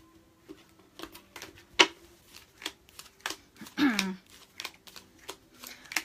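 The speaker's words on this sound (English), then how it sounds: "I shuffle the cards till I feel connected to you" Tarot cards shuffled by hand, a sequence of short crisp riffles and snaps at irregular intervals with one longer rustling burst, close and fairly quiet in an otherwise calm room.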